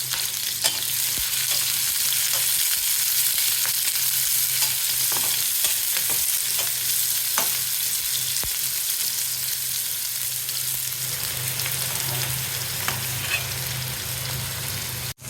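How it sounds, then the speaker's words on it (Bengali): Green chilies and shrimp frying in hot oil for a shrimp bhuna, a steady close sizzle running throughout with scattered stirring scrapes and pops, no talk. "সাথে দিয়ে দেবো কয়েকটি কাঁচামরিচ, ভেজে দেবো।"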